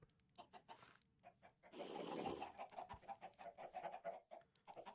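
A Minecraft chicken clucks in quick soft repeated bursts, faint and steady, with a louder flapping rush partway through.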